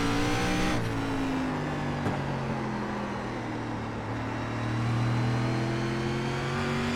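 A race car engine from the SRX Series in iRacing, driven at South Boston, drones continuously with steady sustained tones that rise and fall slightly as throttle shifts, loud and close with no talk over it.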